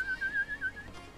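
Someone whistles a short, wavering, high tune over a voice chat during a Grand Theft Auto V role-play session, a quick series of pulsed notes close to the mic, with no talking.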